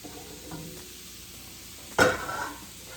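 Jumbo shrimp drop into a pot of simmering seafood gumbo with one short, sharp splash and sizzle against quiet kitchen background, then a brief bubbling tail.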